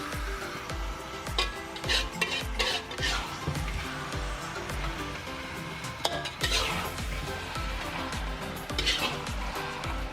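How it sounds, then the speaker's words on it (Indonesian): Chicken pieces being stirred into spice paste in a cooking pan: steady scraping and clinking of a utensil against metal, with a soft sizzle underneath, continuous and close throughout. "Setelah ayam dimasukkan, kita aduk rata dengan bumbu."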